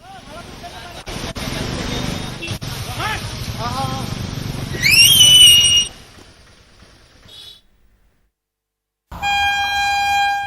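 A train on a major rail line through flood-hit Lower Assam rumbles past with clanking wheels, then sounds a loud, sustained horn blast before the noise fades away. Speech overlaps part of the passage.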